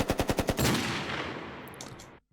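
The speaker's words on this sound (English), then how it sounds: "I have this machine gun." A machine-gun sound effect in a dark trap beat: a few sharp rhythmic shots, then a loud sustained burst of automatic fire that fades and cuts off, with no voices.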